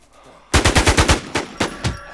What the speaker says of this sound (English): Whoa, there's so much shot. So many shots.